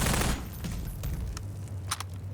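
Rapid gunfire in Half-Life 2 aimed at headcrabs, a dense burst of shots at the start followed by scattered sharper cracks, loud and close with a low rumbling bed underneath.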